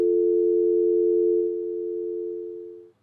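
Steady telephone dial tone, a clean continuous hum heard alone for about three seconds, holding level and then fading slightly before cutting off.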